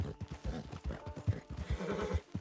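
A spooked horse in Red Dead Online, with rhythmic clip-clop hoofbeats and a whinny amid game sounds, fairly faint and steady across the moment.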